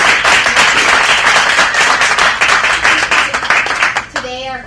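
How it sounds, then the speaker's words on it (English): An audience claps in a dense, sustained round of applause at a graduate showcase event, loud and close, with a voice starting to speak as it fades. "If you can give them all a round of applause."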